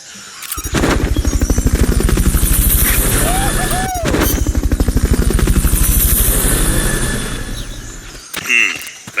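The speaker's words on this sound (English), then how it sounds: "Fulton recovery subject confirmed onboard helicopter." Helicopter in Metal Gear Solid Peace Walker, rotor chop thumping loud and steady for most of the stretch before fading out, with brief sharp bursts layered over it.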